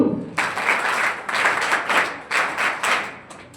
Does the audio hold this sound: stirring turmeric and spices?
no